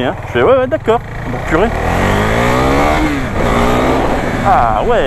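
A Husqvarna Vitpilen 401 motorcycle engine revs up in rising surges with gear changes, close by, as someone speaks French over it in short remarks.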